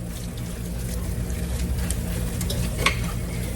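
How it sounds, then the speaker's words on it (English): A turkey and bean mixture is stirred in a hot skillet. The close, even sizzle carries a soft scraping texture, and one sharper knock comes near the end. Nobody speaks. "Give it a good stir."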